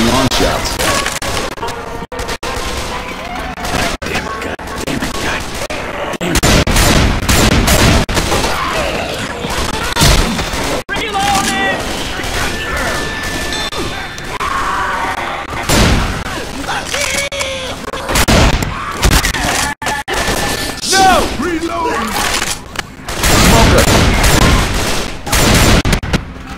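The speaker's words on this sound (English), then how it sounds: "Assault rifle." Assault rifle fire in the Left 4 Dead 2 Bleed Out mutation on The Passing, loud bursts of rapid gunshots repeating through a busy game soundscape with crashes and impacts, and a few voices calling out between volleys.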